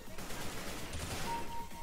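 Burst fire from an M4 rifle in Counter-Strike: Global Offensive, a dense, continuous run of close, loud shots that crackle across the whole clip.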